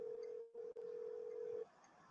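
A telephone in the Nancy Drew game Shadow at the Water's Edge plays a steady, faint dial tone, interrupted by a brief gap and a click, then cut off; no voices.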